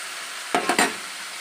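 Salt and tomato frying in a pan for fish curry: a brief close burst of sizzling with two or three quick stirring scrapes over a low hiss.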